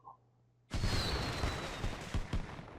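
Fireworks burst over a lake at night in the video game Mr. Love: Queen's Choice, opening with a sudden loud crack after a quiet moment, then a crackling rumble with a few sharp pops.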